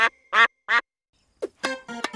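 Cartoon duck from the children's animated series Pocoyo gives three loud, clipped quacks, then after a brief pause a quicker burst of nasal quacks, with no talking around them.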